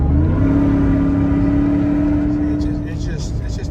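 A Supersnake sport truck's engine revving nearby, a deep throaty drone with a sustained rising tone that eases off toward the end, with someone talking over it.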